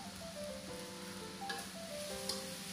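Seasonings stir-fried in a pan for dry pork suki, giving a steady, moderate sizzle with faint scraping and a few clinks over a constant hiss.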